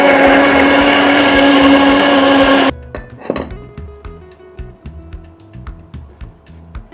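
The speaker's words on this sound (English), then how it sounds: "I'll now blend my garlic and pepper and add." A kitchen blender whirs loudly and steadily as it purées garlic and pepper, then cuts off abruptly after about three seconds, leaving faint clinks of dishes and utensils.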